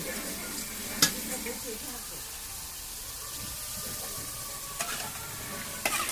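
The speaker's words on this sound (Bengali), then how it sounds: "দেশি খাসি রান্না হচ্ছে" Local goat meat sizzles and is stirred in a pot over a wood fire in the Sundarbans, a soft constant frying hiss broken by a few sharp clinks of the utensil.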